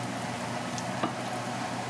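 Dough frying in hot oil during Valentine's baking, a steady dense sizzle close by with small pops and a light stir, no talking.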